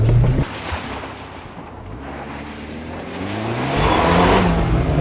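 A rally car powers away on dirt after a handbrake turn at a Hoonigan handbrake competition, engine revving and rising in pitch through the gear with wind buffeting the microphone, loud and close.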